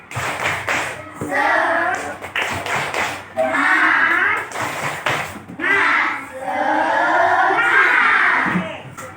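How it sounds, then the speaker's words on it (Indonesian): Primary school pupils in a combined class perform a rhythmic spirit clap chant, sharp bursts of unison clapping alternating with loud shouted group chanting, all close and energetic. "Ayo, tepuk semangat"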